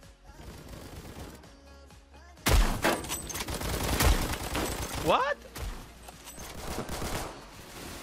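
Rapid bursts of gunfire in the Roblox game Phantom Forces, loud and clattering, with a person talking briefly over the shots.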